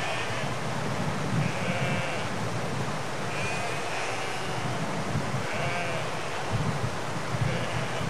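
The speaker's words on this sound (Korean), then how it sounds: "주로 키우는 가축은 염소." Goats bleating on steep, dry Himalayan mountain paths, a herd heading down toward water; several faint, wavering bleats recur at intervals over a constant wind-like hiss.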